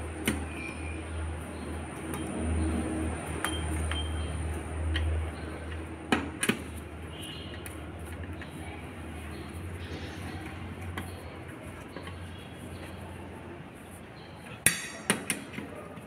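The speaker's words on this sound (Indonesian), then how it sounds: "Lalu kita kencangkan menggunakan kunci T12." Counter gear retainer on a Toyota Avanza/Rush 5-speed manual transmission being tightened with a T12 wrench: a few sharp, close metallic clicks and taps, mostly near the middle and end, over a steady low workshop hum.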